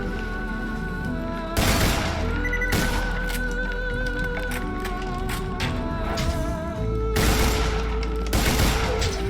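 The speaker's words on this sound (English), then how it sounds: "Oh, is this an automatic gun? Oh, it's a burst gun." Burst-fire gun shooting in the fantasy shooter game Tiny Tina's Wonderlands, loud and continuous with dense clustered reports and a few heavier booming surges, heard without talk.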